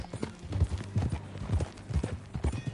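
Horse hooves gallop in Red Dead Redemption 2, a steady, close clip-clop rhythm of repeated hoof strikes that runs through the whole stretch.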